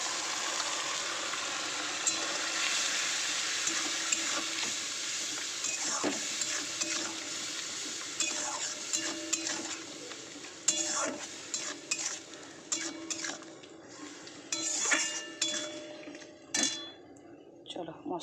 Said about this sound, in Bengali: আমি একটু জল দিয়ে মশলাটা কষাবো